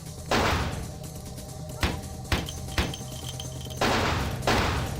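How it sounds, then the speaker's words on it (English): Gunfire in the video game Vampire: The Masquerade - Bloodlines: several separate sharp shots and short bursts, loud and close, spread irregularly over a low rumbling background. "Who is still shooting?"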